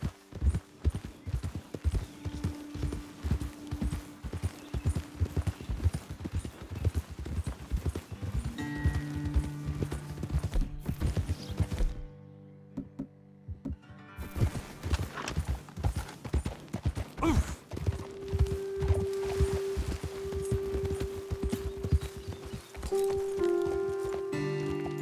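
Horses walking in Red Dead Redemption 2, hooves clip-clopping in a steady rhythm throughout, with a brief quieter gap midway and occasional tonal game sounds layered in.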